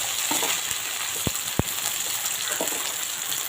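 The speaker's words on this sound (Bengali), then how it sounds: "এই যে কড়াই, এগুলো ভাজা হচ্ছে" Ginger and garlic sizzle steadily in hot oil in a wok, a close, continuous fry with a couple of sharp pops and light stirring scrapes, no talk.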